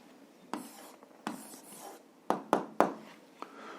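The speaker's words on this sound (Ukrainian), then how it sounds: "записуємо відповідь, пишемо відповідь" A pen scratches out a handwritten answer on paper, quiet and close, with several short strokes and sharper taps in an uneven rhythm.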